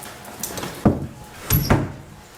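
A screen door rattles and clacks open and shut, a sharp knock followed by two quick sliding thumps, close by in a quiet room.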